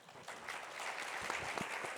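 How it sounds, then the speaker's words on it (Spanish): Audience applause at a panel discussion on the Amazon and Laudato Si', a dense, steady patter of many hands heard from a distance and fairly faint. "Un fuerte aplauso, por favor"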